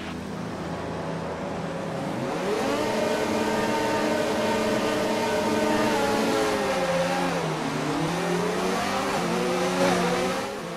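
Formula One race cars of the 2019 season launching from the grid at Monza in a racing video game, several engines revving loudly and rising in pitch together as the pack accelerates away, steady and close throughout.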